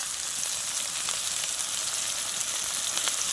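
Sliced Chandramukhi potatoes fry in hot oil with a dense, even sizzle that stays loud and close throughout, a bright crackling hiss and no talking.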